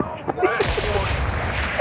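Gunfire from the video game Gangstar Mirage City, a burst of shots and impacts crackling in quick succession over a dense, noisy game mix.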